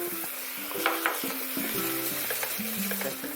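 A tofu glaze sauce of water, oligosaccharide syrup and plenty of sesame seeds simmers in a pan while being stirred: a steady close sizzle and bubbling with scraping stirring strokes throughout, no voices.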